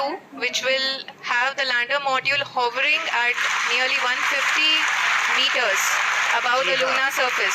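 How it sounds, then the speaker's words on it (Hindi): ISRO scientists applaud in a control room during the Chandrayaan 3 lunar landing, a steady wash of clapping that builds and holds beneath an English commentator's voice. "आप इस तालियों के गड़गड़ाहट को सुन सकते हैं"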